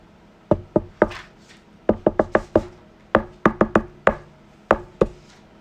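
Someone knocks on a door in several quick clusters of two to five sharp raps, near and distinct, with short pauses between groups.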